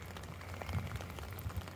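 Steady rain falls on an open field beside a sea loch at Loch Melfort, a soft continuous patter heard up close with a low hum underneath and no talking.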